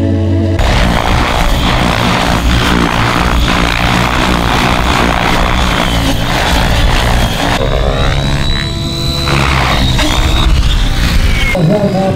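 Aerobatic propeller airplane flying inverted under power, its engine droning loud and steady throughout with a slight dip and pitch shift as it maneuvers overhead.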